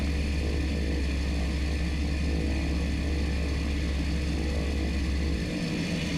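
A seaplane engine drones loudly at a steady high idle, a constant close buzzing hum that shifts slightly in pitch near the end.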